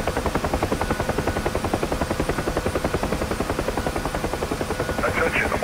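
A UH-1H Huey helicopter in the DCS flight simulator comes in to land, its rotor thumping in a fast, loud, steady beat with a droning turbine whine throughout, and a voice briefly comes in near the end.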